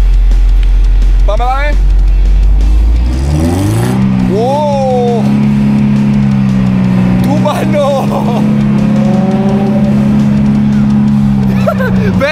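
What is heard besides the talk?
car engine revving as driver presses the gas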